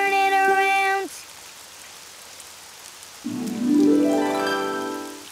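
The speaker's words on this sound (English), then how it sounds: "Oh, it's raining outside." Rain falling outside in a children's cartoon, a steady soft hiss of rainfall continuing under a sung musical phrase at the start and a rising sung tone near the end.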